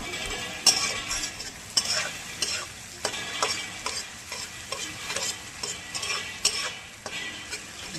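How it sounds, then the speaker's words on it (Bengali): Onions frying in a pan while being stirred, a steady close sizzle broken by regular scraping clicks of the spoon. "হালকা করে পেঁয়াজগুলো ভাজা হতে থাক"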